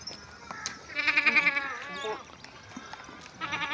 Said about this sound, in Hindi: बकरियाँ आपके सामने हैं